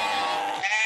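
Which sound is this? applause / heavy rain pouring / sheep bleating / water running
sheep bleating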